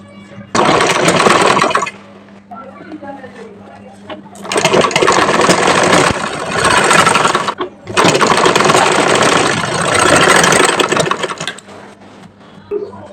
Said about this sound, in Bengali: এই তো এই গলাটাও সেলাই করে নিলাম